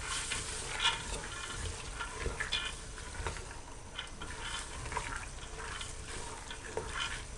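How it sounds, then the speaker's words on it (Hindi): Chickpeas being roasted in a pan, a soft continuous sizzle with gentle scraping and stirring, faint and steady with no voices. "चनों को बहुत ज़्यादा नहीं भूनना"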